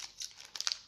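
Plastic packaging of a Halloween snack crinkling as someone struggles to open it, a brief burst of close, faint rustles and crackles.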